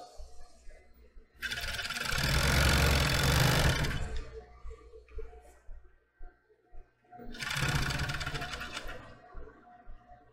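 Sewing machine stitching fabric for lingerie in a sewing class: two loud, steady whirring runs of stitching, the first about two and a half seconds and the second shorter, separated by quieter mechanical clicks and handling.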